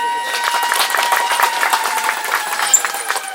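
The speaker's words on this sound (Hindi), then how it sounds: "सबसे ताली बजा दो" A crowd claps at an earthquake disaster-management mock drill, a steady patter of applause with no voices over it, held at moderate volume for a few seconds.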